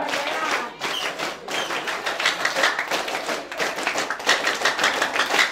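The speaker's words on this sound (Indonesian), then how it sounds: "Baik, 2 kali tepuk pramuka." A group performs the Indonesian scout clap, tepuk pramuka, twice in a row: sharp, rhythmic bursts of many hands clapping together in patterned beats, loud and close, with brief pauses between sequences.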